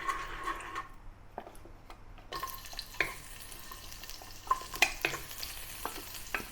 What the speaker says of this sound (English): add some oil into the wok or a large skillet to saute the green onions and also the ginger until it's really fragrant